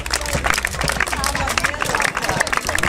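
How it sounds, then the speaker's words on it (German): Spectators at the finish of a running race in Plaggenburg clap and cheer for an arriving runner. The clapping is dense and continuous, mixed with crowd babble and speech. "Auch ihr ein riesiger Applaus."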